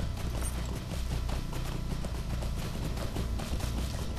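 Rapid, rhythmic hoofbeats of a horse galloping in the video game LOTRO, a steady fast clip-clop that is loud and close throughout, with no voices over it.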